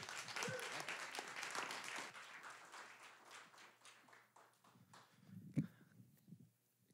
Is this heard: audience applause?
yes